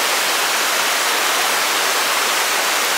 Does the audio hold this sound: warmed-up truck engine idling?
no